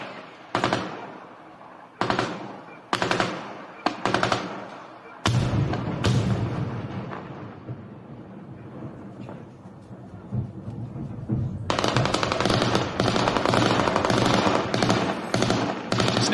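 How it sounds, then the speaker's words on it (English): Machine gun fire in a sustained firefight in the war in Ukraine: separated bursts at first, then a heavy rolling stretch, and finally dense, continuous rattling, loud and close. "The fire continues on at somewhat of a steady rate right now."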